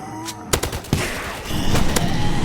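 Gunfire in a Roblox zombie attack game: a string of sharp, close shots in quick irregular bursts, growing denser toward the end over a steady wash of game noise.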